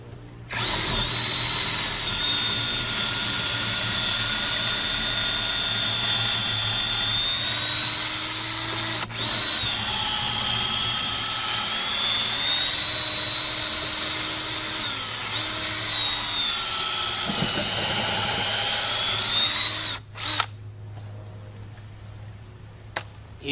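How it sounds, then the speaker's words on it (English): A power drill with an extension bit bores 1/4-inch carriage-bolt holes into a wooden barn door, a loud, steady whine running about twenty seconds with one brief dip midway before stopping abruptly. "To do that, I'm going to use this extension drill bit."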